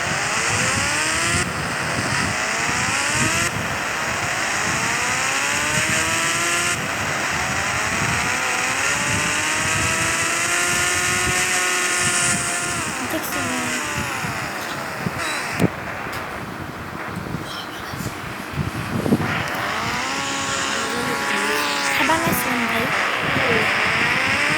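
A motorbike engine in the video game GTA 5 revs and climbs through repeated rising and falling pitch sweeps. It stays loud and close all the way through, with a voice talking over it.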